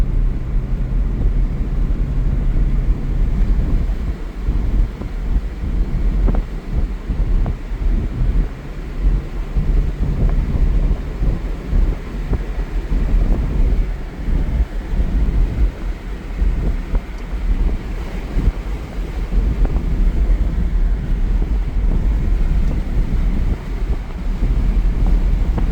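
A second-generation Toyota Tundra V8 with stock exhaust cruising at night with all windows down, a low steady engine drone buried under heavy rushing wind buffeting the cabin throughout, no talking.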